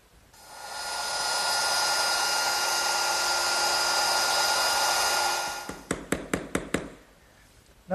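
A woodworking router cuts a dado in wood for a Shaker woodbox, giving a loud, steady high whine for about five seconds. It stops abruptly, followed by a quick run of sharp knocks. No one speaks.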